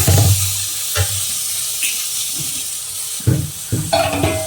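Tomatoes drop into a pan of frying potato curry with sharp clunks and a hissing sizzle, followed by stirring scrapes and bursts of spattering, close and with no talk.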